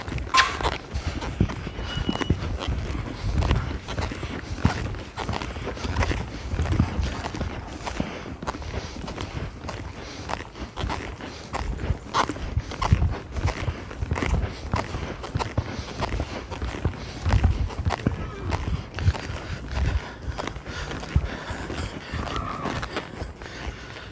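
Maggie, a horse in rehab, walks through a physical therapy exercise, her hooves thudding in an uneven, repeated rhythm over about twenty seconds against soft background noise.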